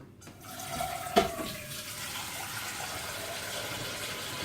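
Something is being rinsed under a running kitchen tap, a steady moderate rush of water with a brief clatter near the start and no speech.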